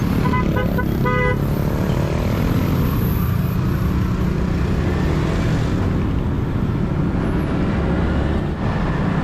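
Dense, loud roadway traffic surrounds a Yamaha MT-15 motorcycle on the road in Cebu, with steady engine and wind rumble throughout and a short burst of car horn toots near the start.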